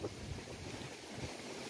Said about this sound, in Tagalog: So medyo malakas ihip ng hangin